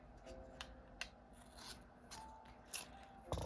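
Scissors snipping during seashell cleaning, a few short crisp cuts spread over a few seconds, close and fairly quiet, with a louder scrape at the end.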